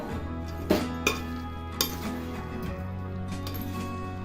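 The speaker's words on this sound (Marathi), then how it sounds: "थोडंसं असं हलवून घ्यायचं म्हणजे पाक वरचा खाली वरचा मुरतोय असं" A spoon stirs sugar syrup through boondi for laddu in a metal pot, giving a few sharp clinks against the sides over a low, steady background hum.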